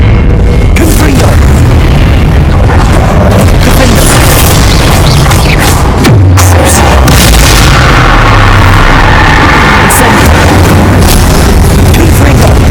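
Fire-spell blasts in the Hogwarts Legacy game, a wall of loud, booming explosions and crackling bursts that swells and rolls continuously, with a sharp fresh blast near the middle.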